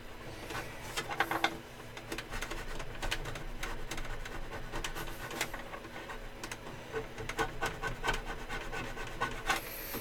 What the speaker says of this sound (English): Just keep sanding.